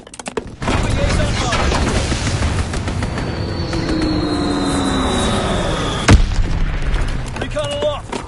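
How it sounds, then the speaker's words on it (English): Aircraft strafing run in a console video game, a sustained roar of engine and rapid gunfire with a descending whine, ending in a sharp loud impact near the end. "Strafing run inbound."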